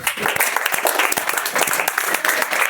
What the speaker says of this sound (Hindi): चलो बैठो, ताली मार दीजिए।